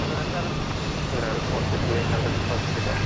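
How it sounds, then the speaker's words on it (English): Airplanes taking off together on roughly parallel runways at Houston Intercontinental airport make a steady, broad jet-engine roar that fills the whole stretch, while a person speaks over it. "We've had kind of a semi-parallel takeoff here"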